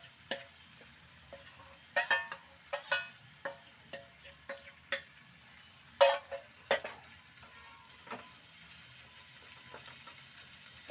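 Flat beans go into a pan and are stirred through a mashed mixture, with scattered scraping clicks and soft knocks over a faint, quiet sizzle.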